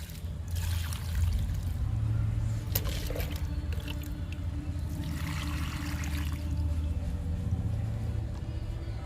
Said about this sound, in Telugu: ఇప్పుడు వాటర్ ఇద్దాము.